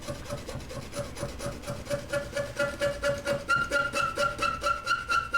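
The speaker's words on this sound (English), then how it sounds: "that's what scratching is supposed to sound like" A hand tool scratching across wood in a woodworking class, making quiet, rhythmic rasping strokes that repeat steadily back and forth and grow a little stronger toward the end.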